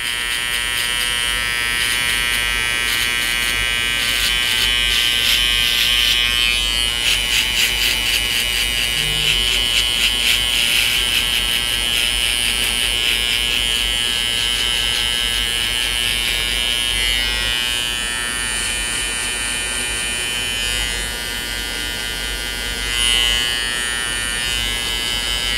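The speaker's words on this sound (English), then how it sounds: "I'm going to be using my Beverly Skeleton FX to put the baseline just about a finger length above the ears." A Babyliss Skeleton FX hair trimmer buzzes steadily and close up while cutting a skin fade baseline, its whine shifting slightly as it moves over the head, with no talking.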